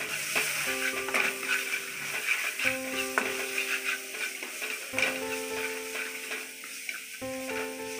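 Masala dry-roasting in a pan for Maharashtrian patwadi, a steady soft sizzle with occasional stirring scrapes, heard alone and fairly close throughout.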